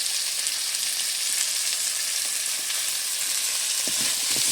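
Fish seasoned with salt, turmeric and chili powder sizzles steadily in a hot pan, with faint scraping and stirring running through the constant close frying hiss and no talking.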